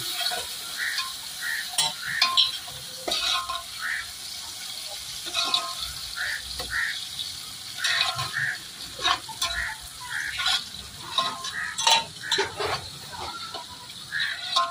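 Tomato and onion fry in a pan, crackling and sizzling close by while a utensil scrapes and stirs in irregular bursts, with no talking.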